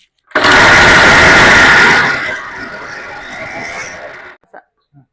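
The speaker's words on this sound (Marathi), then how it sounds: "तर सर्व मसाला मिक्सरला बारीक करून घेऊया" A mixer grinder whirs loudly at close range, grinding a masala of peanuts, ginger, garlic and chillies in a burst of about two seconds, then spins down more quietly before stopping, with a couple of faint knocks afterward.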